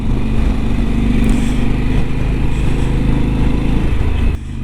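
A Harley-Davidson Pan America motorcycle engine at low revs drones steadily and loudly up close with a deep, continuous rumble, dipping briefly near the end.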